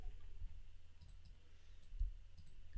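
Faint, quick mouse clicks, including a double click, while selecting a colour in graphic design software, spaced out over low room hum.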